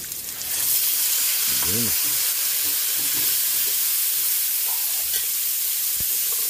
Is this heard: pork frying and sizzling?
yes